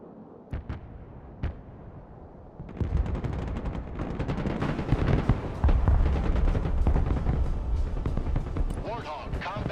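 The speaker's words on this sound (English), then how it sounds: "Gun in action." Gunfire in the Broken Arrow military strategy game, a few sharp isolated shots followed by sustained rapid bursts of automatic fire and explosions, loud and continuous.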